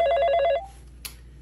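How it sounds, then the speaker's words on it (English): A telephone rings close and clear in a rapid warbling burst that cuts off after about half a second, leaving a quiet room with one faint click. "is nobody gonna pick up the phone?"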